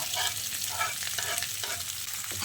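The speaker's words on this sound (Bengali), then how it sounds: "কেটে রাখা আলুগুলোকে দিয়ে তেলের সঙ্গে খানিকক্ষণ নাড়ে চেড়ে মিশিয়ে নিয়ে" Chopped potatoes and onion frying in oil in a pan, with a continuous close sizzle and the rhythmic scrape of stirring, without talk.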